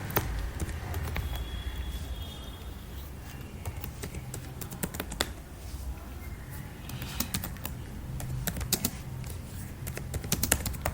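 Rapid, close clatter of keys on a computer keyboard as test code is typed, uneven bursts of clicks running continuously with no talking.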